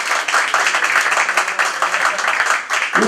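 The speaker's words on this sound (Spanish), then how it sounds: "Vamos a dar un caluroso fuerte aplauso a Willy." An audience at a tribute event in Barcelona applauds steadily, a dense wash of many hands clapping at once, fairly close and continuous throughout.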